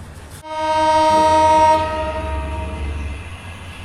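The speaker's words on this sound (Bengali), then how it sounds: "আমাদের ট্রেন ছেড়ে দিল পোড়াদহ জাংশন থেকে" Shimanto Express passenger train sounding a long loud horn blast as it departs Poradah junction, the horn cutting off after about a second and a half, then rumbling wheels and engine noise rolling on.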